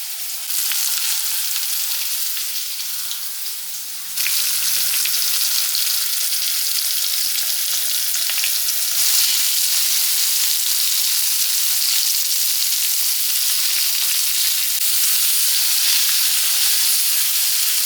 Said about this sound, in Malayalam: ഇത് നമുക്ക് വറുത്തെടുക്കാം ഇനി ഇതും വെളിച്ചെണ്ണ തന്നെയാണ്